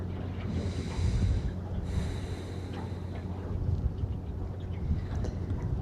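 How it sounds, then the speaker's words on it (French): Slow, deep breaths during a calm yoga flow, audible as two long airy exhalations close to the microphone followed by quieter breathing over low background rumble, with no talking. "Observe ta respiration et essaye de ramener le calme et la profondeur dans ton souffle."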